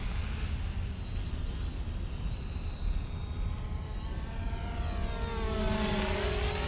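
A Xiaomi FIMI X8 SE camera drone flies at full speed, a continuous whirring propeller drone with a pitch that shifts and rises as it manoeuvres, fairly loud and alone.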